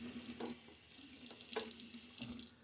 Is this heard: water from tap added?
yes